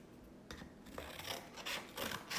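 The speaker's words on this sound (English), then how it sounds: "and then you would take your scissors" Scissors snip through a paper triangle in a few quick, close cuts, each one a short crisp rustle and crunch of paper.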